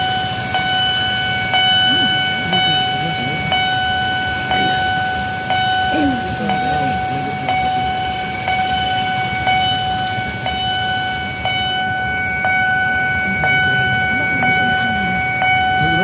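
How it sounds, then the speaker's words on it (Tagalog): A train rolls past close by, with a rhythmic clatter of wheels over rail joints and a steady rumble, while people chatter nearby. "Dadaan ang train."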